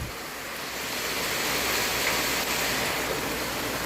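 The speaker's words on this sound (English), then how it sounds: "getting us good old rain" Heavy rain pours down steadily in an Appalachian holler at Lawndale, a dense, even hiss of a gully-washer downpour with no letup and no voices.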